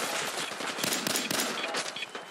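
Rapid automatic gunfire in the video game Fallout 4, a dense, loud crackle of shots with sharper bursts standing out, continuous through the whole stretch with no talk over it.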